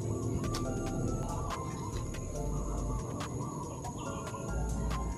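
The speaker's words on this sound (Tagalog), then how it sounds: "Talagang ibon lang talaga yung maririnig mo dito." Birds sing in a quiet forest beside a very large tree on a hot day: scattered short chirps and calls, some near and some farther off, repeat over a steady soft background hush.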